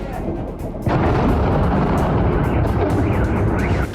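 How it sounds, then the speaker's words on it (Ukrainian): Powerful explosions from a missile strike, heard as a loud, sustained roar that jumps up sharply after a moment and rumbles on heavily, with no talking. "4 січня в Євпаторії та Севастополі лунають потужні вибухи"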